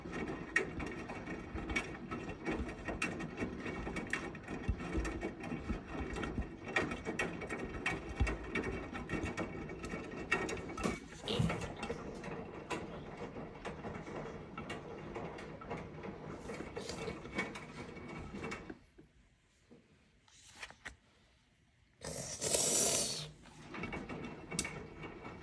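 A Samsung washing machine running at home: steady mechanical churning with rattling, ratchet-like clicks and gear noise that continues for a long stretch, then briefly drops away before a short burst of louder noise.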